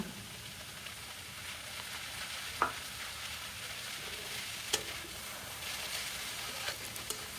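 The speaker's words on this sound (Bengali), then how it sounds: "তারপরে ভেজে রাখা ডিমগুলো দিলাম" Cabbage and fried egg stir-fried in a pan give a steady close sizzle and hiss, with a few sharp scrapes of a stirring utensil against the pan scattered throughout.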